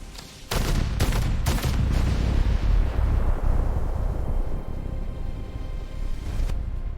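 A sci-fi rifle fires a few sharp blasts in quick succession, then releases a long roaring energy discharge that rumbles and slowly fades, with a final crack near the end; loud and close, no talking.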